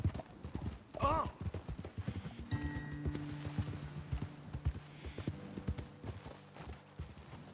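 Hooves clip-clop in an uneven trot as horses move along in Red Dead Redemption 2, close and distinct, with a brief whinny early on and a low humming tone and faint voices underneath.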